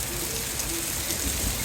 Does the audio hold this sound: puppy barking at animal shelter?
no